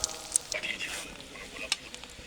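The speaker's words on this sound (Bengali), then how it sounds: "এখন আমি পেঁয়াজ কুচি দিয়ে দেব।" Chopped onion drops into hot mustard oil for a chicken kalavuna, giving a soft, steady sizzle with a few brighter crackles and spits scattered through it.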